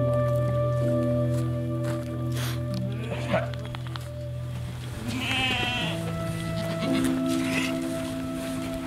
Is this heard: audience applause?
no